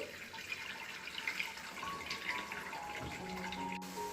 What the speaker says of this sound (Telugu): వాటి మీద కోల్డ్ వాటర్ వేసుకుందాము